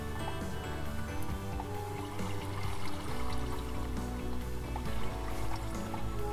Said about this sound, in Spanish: Tengo las cataratas.